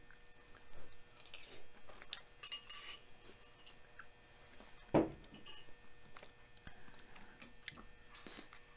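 A bite of pork chile verde is chewed at close range, soft irregular mouth sounds mixed with light clinks of cutlery against a dish and one sharper knock midway, all quiet with no speech.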